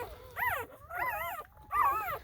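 High, thin whimpering squeaks from guardian dog puppies under six hours old come in three rising-and-falling bursts with short gaps, close by and fairly quiet.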